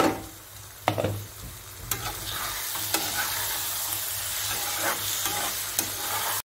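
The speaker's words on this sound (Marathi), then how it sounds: "आता आपण अजून थोडंसं परतून घेऊया" Steady sizzling of a thick besan (gram flour) mixture frying in a pan for zunka, with occasional sharp scrapes and taps of a spatula stirring it.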